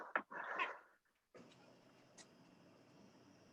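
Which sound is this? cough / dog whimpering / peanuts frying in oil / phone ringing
dog whimpering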